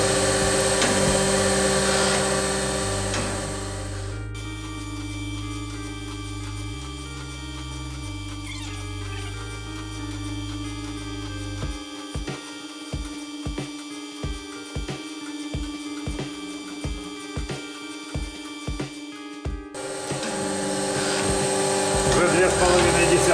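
A 3G71 surface grinder works scrap-metal parallels. A steady machine hum and whine run for several seconds, then drop into a quieter stretch with a regular series of rhythmic thumps as the table strokes back and forth, before the louder grinding noise returns.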